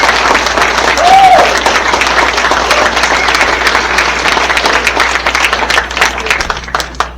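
A large crowd at a baseball hall of fame induction ceremony applauds steadily, dense clapping that holds for several seconds before thinning toward the end.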